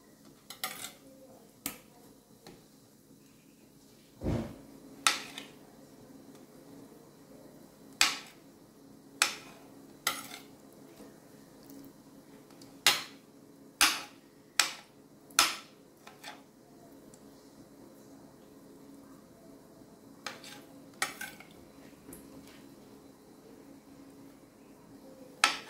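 A knife slices skinned salmon into small square pieces on a board, giving sharp, irregular taps and clicks close by, spaced a second or two apart against a quiet room background.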